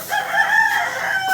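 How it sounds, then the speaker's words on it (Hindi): A rooster crows at dawn in a single drawn-out call, clear and fairly close, with no talk over it. "मुर्गा भी हमारा बांगे दे रहा है।"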